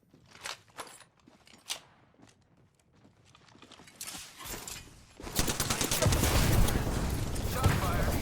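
Gunfire in the Apex Legends video game, a few sharp scattered shots and footsteps building into dense continuous rapid fire and loud chaotic combat noise.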